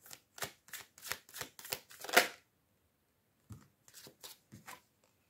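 Tarot cards being shuffled and handled, a run of crisp riffling bursts building to a louder flurry, then a pause and several softer card snaps, close up with no talk.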